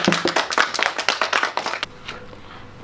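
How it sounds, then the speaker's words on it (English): Audience clapping at a primary school honours program, a short burst of dense, fairly close applause lasting under two seconds and fading to quiet. "Give him a clap."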